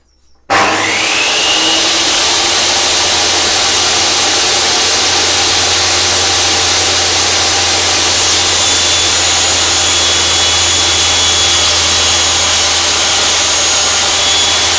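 A circular saw with its fence set for a 30 cm wide rip cuts through wood, a loud sustained whine and grind that starts abruptly after a brief quiet moment and runs on unbroken.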